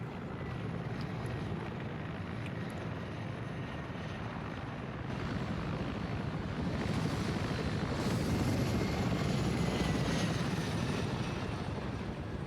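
A helicopter flies in the military game Arma 3, its steady rotor and engine drone continuous and loud, growing slightly stronger in the second half, with no talking.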